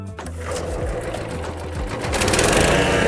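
A HECHT garden wood shredder starts up, its motor spinning up with a rising, steady mechanical whir that grows louder and denser toward the end.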